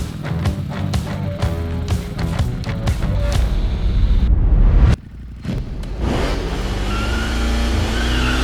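Loud Ducati motorcycle engine revving hard through rapid gear changes, a brief cut, then roaring again as it climbs in pitch, close and powerful.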